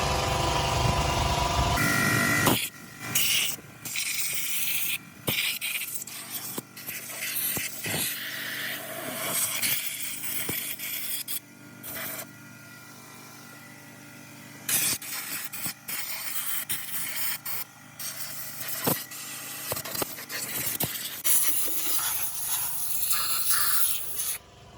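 Compressed air blasts crud out of a Ford Fusion 3.0L V6 intake in repeated loud hissing bursts of varying length, close to the microphone, with short gaps and a few sharp clicks between them.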